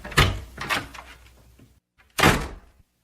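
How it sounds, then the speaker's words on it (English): An office door opening, heard as a few close wooden knocks and thuds, then a brief silence and one more firm thump. "The door of the office opened, and Belinda came in."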